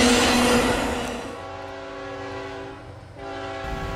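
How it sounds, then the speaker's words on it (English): Union Pacific Tier 4 GEVO locomotive leading an auto rack freight train, its horn blaring loud and near at first, then the rumble of the passing cars with steady horn tones fading and returning. "auto rack train led by a Union Pacific Tier 4 Gevo number 2596."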